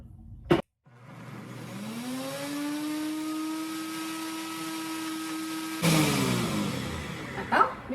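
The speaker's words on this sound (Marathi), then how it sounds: "आपण आधी मिक्सरला लावूया पुरण" A kitchen mixer grinder blends puran. After a click, the motor spins up into a steady, loud whirring hum with a rising pitch that holds for several seconds, then shifts into a rougher, noisier churn before stopping with a clatter.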